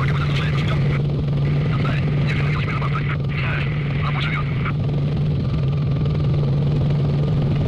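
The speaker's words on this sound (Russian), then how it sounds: "Вот тут летит военный вертолет." A military helicopter passes overhead in the Stalker video game, a steady low rotor drone with engine whine, loud and continuous beneath faint intermittent higher sounds.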